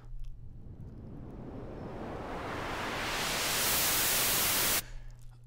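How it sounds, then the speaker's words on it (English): Filtered noise rise from a Logic ES2 synth, a hiss swept upward through a low pass filter with resonance, swelling steadily louder and brighter before stopping abruptly over a low hum. "select the noise option, and then use the filter obviously to sweep through the frequency range"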